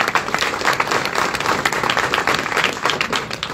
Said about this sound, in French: On peut applaudir, s'il vous plaît.